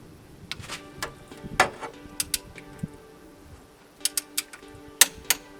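A ratchet or torque wrench tightens a bolt on a Mazda MX-5 Miata during belt and alternator work, making a series of crisp, close metallic clicks in short irregular bursts, some grouped in quick runs.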